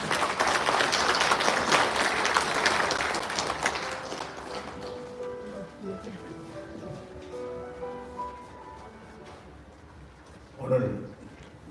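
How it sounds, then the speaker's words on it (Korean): Applause at a launch ceremony in a National Assembly hall rises strongly at first and then fades out, giving way to a quieter room with a brief bump of noise near the end. "큰 박수로 환영해 주시기 바랍니다."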